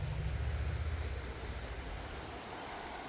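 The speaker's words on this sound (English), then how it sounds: "And I've got a beautiful river." A river at The Boulders in Babinda rushes steadily as a broad, constant wash of water, loudest at the start and then settling into an even flow.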